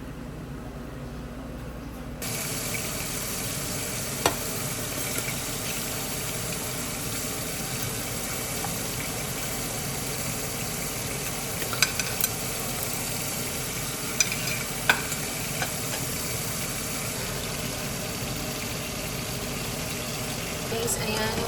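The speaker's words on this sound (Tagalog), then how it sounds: "medyo dirt na yung bawang natin. Kailangan pa siya medyo lutong-luto." Garlic frying and being stirred in a pan, a steady soft sizzle running throughout with occasional faint scrapes and clicks of the utensil; fairly quiet and close, with no one talking.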